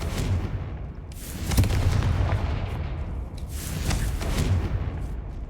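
A Confringo fire spell in the video game Hogwarts Legacy bursts into a loud, rumbling explosion with crackling debris, followed by a second swell of blasts, with no talk over it.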